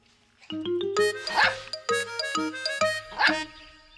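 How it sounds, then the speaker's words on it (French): A cartoon dog barks happily in a French Miffy episode: a few bright, high yips and short barks come in two lively bursts over light background music, with no talking. "Snuffy se remit à sauter en aboyant joyeusement."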